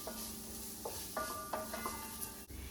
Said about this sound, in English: And then just kind of stir everything until they're all combined.